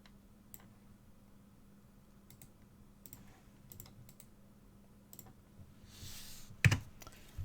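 Keys tapped out on a computer keyboard while entering a command for cryptographic key creation, quiet scattered clicks in bursts over a low steady hum, ending in a louder clack.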